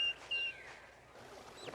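A lone wild turkey poult, a straggler separated from its hen, gives high thin whistled lost calls in a couple of short bursts, then a rising chirp, faint against a quiet outdoor background.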